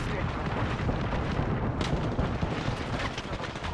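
Bangalore's ultimate artillery strike in Apex Legends, a dense barrage of booming explosions that rumbles continuously and loud throughout, with sharper cracks layered over the low roar.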